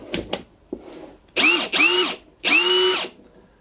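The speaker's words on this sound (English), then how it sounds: "we'll try it on the strongest drill in the world" A Bosch cordless drill running on a Ceenr battery whirs up in three short bursts, each rising and falling in pitch, after a few clicks and handling knocks, close and loud.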